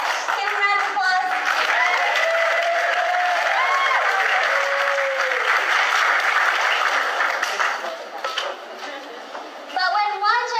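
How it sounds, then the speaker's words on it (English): Church audience applause during a sermon rises as a broad crowd clapping that eases off toward the end, with bright tonal sounds and voices mixed through it. "Give them a round of applause."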